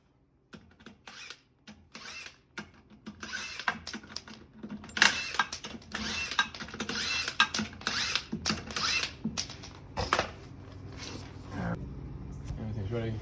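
A 22mm socket spins lug nuts off the wheel of a 2006 Chevrolet Silverado. Quick rattling clicks and metallic bursts come close together and fairly quiet, with talk in the background.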